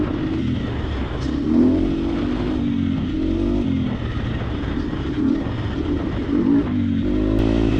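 A Triumph TF250X motocross bike engine drones steadily up close, with small rises and dips in revs and no talking over it.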